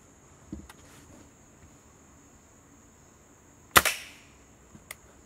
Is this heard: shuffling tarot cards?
no